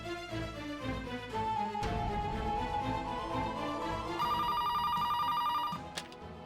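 A telephone bell rings steadily through a swelling dramatic music score, its ringing clearest over the last couple of seconds before cutting off; no one speaks.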